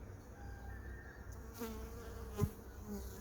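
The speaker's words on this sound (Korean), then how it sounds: "좀 매달리고 있습니다 벌이 많이" Bees swarm around a red acacia tree, a continuous faint buzzing hum with a few louder passes of individual insects close by.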